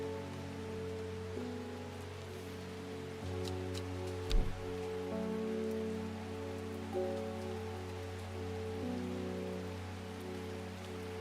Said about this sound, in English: Did it ever stop raining in Undermere?